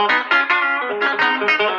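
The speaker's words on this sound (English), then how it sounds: "So flick that switch, so now we're in single coil mode." An electric guitar on a TEASE SBH-E reverse guitar, switched to single-coil pickup mode, plays a quick run of bright, choppy notes with distinct attacks, close and alone.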